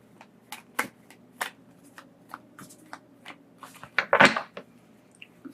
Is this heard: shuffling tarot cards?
yes